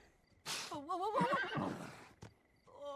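Horse whinnying in The Sims 4, one loud wavering neigh up close with a breathy onset, followed by snorting, a short click and the start of a second whinny.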